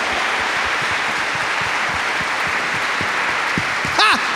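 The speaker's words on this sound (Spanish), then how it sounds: "Démosle un aplauso al rey." A church congregation applauds for the king during an evangelical sermon, a steady wash of clapping held at an even level, with a brief shout or whoop near the end.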